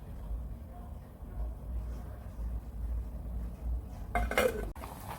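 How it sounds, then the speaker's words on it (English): A lid clanks onto a metal pot of mango jam set to boil on the stove, a short clattering clink near the end over a low steady kitchen hum. "So I'll cover the pot and allow it to boil."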